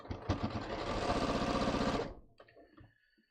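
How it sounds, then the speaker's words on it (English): A sewing machine stitches a drawstring hem on a pair of wide-leg pants, running in a steady, fast mechanical chatter for about two seconds before stopping, followed by a few soft handling sounds. "I'm just going to stitch along this"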